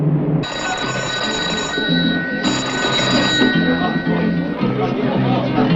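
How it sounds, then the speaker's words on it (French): A telephone bell rings in two long electric trills with a pause between them, loud and near, while a crowd chatters steadily underneath. "c'est le téléphone pour vous"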